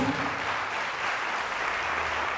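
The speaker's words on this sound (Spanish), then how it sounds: "Dale ese fuerte aplauso a Jesús." A church congregation applauds in a sustained, even roar of clapping that stays fairly loud and steady throughout, with a faint voice briefly present.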